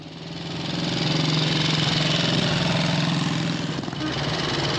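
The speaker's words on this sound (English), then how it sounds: "here's a shot of Tom about to go out on the Jap-engined Royal Enfield" A Royal Enfield motorcycle with a JAP engine runs steadily at idle on a classic-bike day, its engine note near, even and continuous, with a slight dip toward the end.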